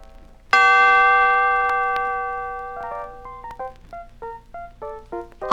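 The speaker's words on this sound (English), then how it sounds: "when you hear the chime," A page-turn chime from a 1979 read-along recording of My First Counting Book rings out as one bright, sustained bell tone that slowly fades, followed by a short run of lighter plucked notes.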